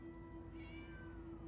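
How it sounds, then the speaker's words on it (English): A cat meows in the video game Minecraft Story Mode, with a drawn-out, rising and falling meow clearly audible over a steady background tone from the game. "I kind of guessed from the meowing"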